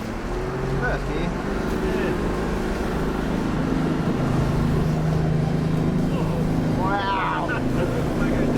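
A 4WD vehicle pushes through deep water on a Cape York track, a steady engine drone with sloshing water, while people talk over it.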